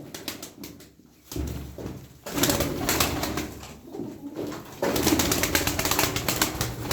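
Tumbler pigeons coo in a coop amid rustling and occasional wing flutters, a close, irregular mix of soft cooing and movement with no talking.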